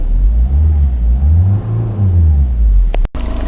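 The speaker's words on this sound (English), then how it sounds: "Heat up to 100 and just rev it." A Peugeot 308 diesel engine with an anti-pollution fault revs up and down in loud, close swells of rumbling drone, then cuts off abruptly near the end.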